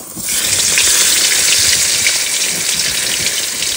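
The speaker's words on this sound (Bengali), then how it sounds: "এবারে দাঁতনে মাছগুলো ভেজে নেবো" Fish sizzling and spluttering in hot oil in a pan over an outdoor cooking fire beside the jungle edge, a loud steady crackle that starts abruptly and keeps going without pause, with no voices.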